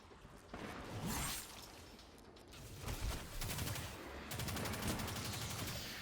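Enemy gunfire in the sci-fi shooter Destiny 2 crackles in rapid, sustained bursts, dense and fairly close, with whooshing game effects mixed in and no speech.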